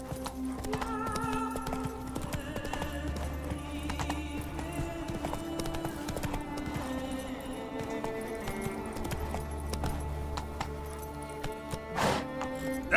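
Roach, a horse in The Witcher 3 video game, galloping with rhythmic clip-clop hooves over a game soundtrack, a brief whinny, and a clink and crash near the end.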